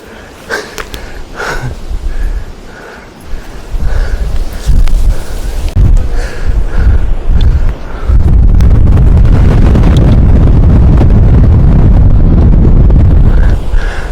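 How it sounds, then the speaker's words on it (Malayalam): Strong wind at a mountain viewpoint on the Agasthyarkoodam trek buffets the microphone in loud, rumbling gusts that build and become nearly constant, with a faint voice briefly underneath early on. "നല്ല കാറ്റുണ്ട് ഇവിടെ"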